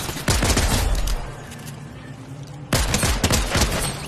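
Rapid gunfire from the video game Fortnite, two dense bursts of shots separated by a brief lull, loud and close.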